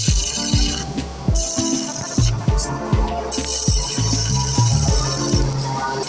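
An inverter arc welding machine, once faulty with its OC light coming on and now repaired, burns a welding rod all the way down. A continuous buzzing hum carries steady crackling with regular thumping pulses throughout, and no one speaks.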